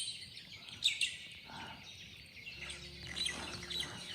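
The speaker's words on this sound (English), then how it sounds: "There's so much bird life here." Birds call and chirp in a Tasmanian wet eucalyptus forest on the Ironbound Range, a few bright, scattered calls at moderate distance over a low background hum.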